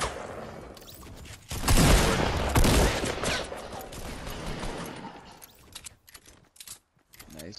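Rapid bursts of gunfire in the video game Fortnite, loud dense volleys at first that thin into scattered shots and mechanical clicks, with a voice speaking briefly over the game audio.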